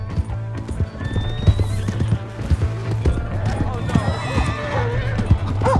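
A horse in the video game Red Dead Redemption 2 whinnies while its hooves clip-clop steadily and loudly, with raised shouting voices over the galloping.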